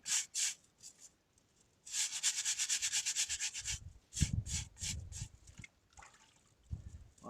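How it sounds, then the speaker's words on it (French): A brush with hot water and detergent scrubs a Mercedes-Benz W124 seatbelt in close, rhythmic bursts of bristly rubbing, with a fast run of strokes in the middle, pauses between passes and a few wet dabbing sounds. "on peut utiliser également une brosse, et on essaye de passer ça partout."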